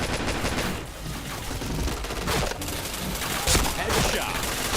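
Gunfire in a shooter video game comes as dense bursts of rapid shots and thuds, with a few sharper single cracks near the end, loud and continuous throughout.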